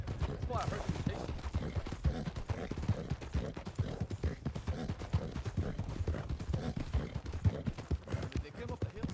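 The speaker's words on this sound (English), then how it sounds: "I was hearing horses behind us." Several horses gallop behind the listener in the Wild RP game, a dense, continuous drumming of hoofbeats under people talking.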